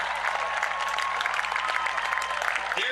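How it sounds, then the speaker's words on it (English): A stadium crowd cheers and applauds an Olympic torch runner circling the track, a dense, continuous roar of clapping with no clear voices. "continue to cheer on Darius as he makes his way around the stadium with our Olympic torch"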